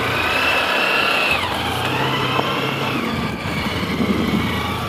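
A car engine drones steadily as the vehicle climbs uphill on a road near Phe Phe Falls in Meghalaya, its pitch shifting slightly with load over a gritty, continuous roar with no pauses.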